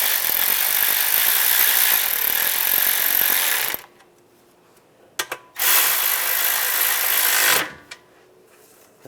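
Power tool tightening bolts on the radiator of a 2014-2019 Toyota Corolla in a garage, two loud sustained whirring bursts of several seconds each with a short gap and faint clicks between them.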